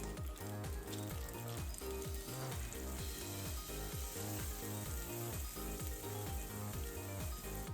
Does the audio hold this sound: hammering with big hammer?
no